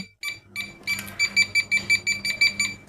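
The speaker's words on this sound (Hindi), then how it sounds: "न्यूट्रल पे ये स्लो बीप करता है" A clamp meter's electric field detector, with an electric load connected, beeps slowly on a neutral wire: a regular train of short, fairly loud electronic tones, about ten in quick succession after a brief pause, with nothing else heard.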